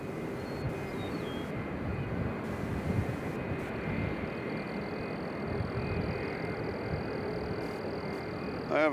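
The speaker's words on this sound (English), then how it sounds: "We got more planes coming out to get in the action." Airplanes operating near Nashville International Airport, heard as a steady broadband engine roar that holds at a fairly loud level throughout, with a faint high whine on top and no voices.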